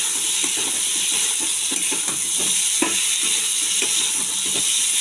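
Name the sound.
stirring boiled potatoes and peas in fried spice paste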